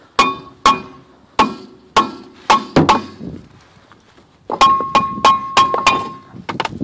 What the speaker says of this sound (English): Rotor is stuck, should come off one hand. Whack it.